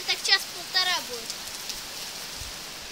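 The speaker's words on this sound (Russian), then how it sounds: "Дождь стеной называется." A heavy downpour pours steadily at a holiday camp, a constant close hiss running underneath, with a voice or two heard briefly near the start.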